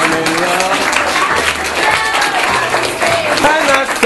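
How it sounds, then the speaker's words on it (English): Audience applause at a live show, loud and steady throughout, with crowd voices and tonal sounds mixed in beneath the clapping. "Please have another round of applause."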